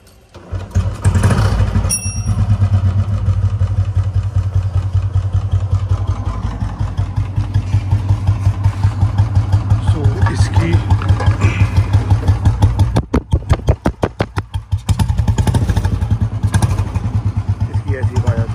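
A Royal Enfield Bullet motorcycle, its exhaust just changed, starts up and settles into a loud, close, thumping idle, with a brief blip and stumble near the end, and speech faintly underneath.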